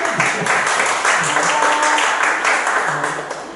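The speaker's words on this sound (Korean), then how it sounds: "두 분이 박수를 쳐주셨습니다" Applause at a church youth summer retreat, a loud burst of clapping from the gathering, with voices mixed in beneath it.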